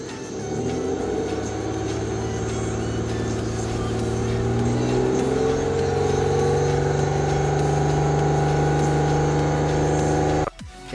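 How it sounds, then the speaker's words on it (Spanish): A 2006 Mitsubishi Eclipse GT engine rises from a steady idle of about 800 rpm into a gradual rev, the hum climbing in pitch and holding loud and close for several seconds before cutting off abruptly. "Ahora lo voy a acelerar un poquito."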